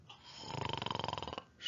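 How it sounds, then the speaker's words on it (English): A single drawn-out snore from a pig sleeping in bed, a soft rattling buzz held for about a second and close by, with no talk over it. "Snore, snore."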